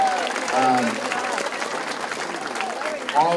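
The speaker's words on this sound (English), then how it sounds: "how about a round of applause for everyone that works at the Elderly Commission" Audience applauding Elderly Commission staff at a senior spring fling event, a steady wash of clapping across the whole span with voices talking over it.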